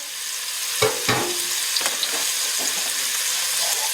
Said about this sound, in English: So we have in here carrots, onions, and celery, and we're going to dump that in here.